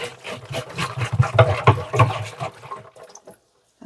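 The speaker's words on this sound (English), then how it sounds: "swish it around." Water sloshing and swishing inside the tank of a Bissell Little Green Proheat Pet cleaner, a close series of rhythmic splashing surges that fade out near the end.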